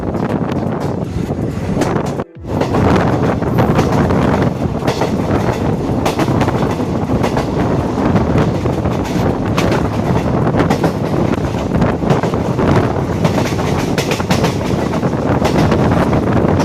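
Inside a moving intercity express train, a steady loud rumble of wheels and rushing air fills the carriage continuously, with one brief dropout.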